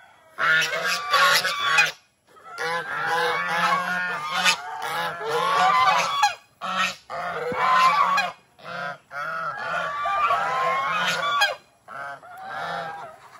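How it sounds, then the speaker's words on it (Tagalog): A flock of geese honking loudly and repeatedly, overlapping nasal calls in bursts with short pauses between them, close by. "gansa"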